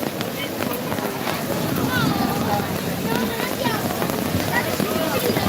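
Steady rain hisses throughout with a dense, even wash of noise, while faint muffled voices drift underneath.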